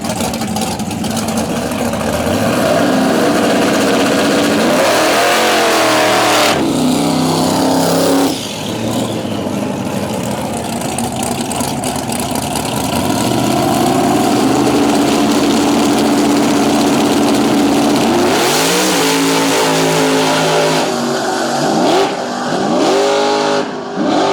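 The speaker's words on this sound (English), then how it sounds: "In that twin turbo truck. Going up against Peter in this nitrous powered Camaro" A twin-turbo truck and a nitrous-powered Camaro drag race side by side, engines idling, then roaring loudly through hard acceleration and gear changes at close range, with brief revving between launches.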